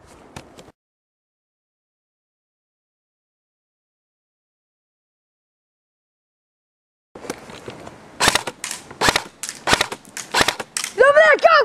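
Airsoft guns firing during an outdoor airsoft war, a short burst at the start, then silence, followed by rapid sharp pops in quick succession, fairly close and loud, with people shouting between shots.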